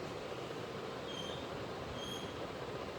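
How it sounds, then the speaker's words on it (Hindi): Delhi metro train at a station, a steady loud rumble of rolling carriages with faint high wheel squeals now and then, continuous throughout without speech. "जब हम मेट्रो स्टेशन में अन्य साथियों का इंतज़ार कर रहे थे"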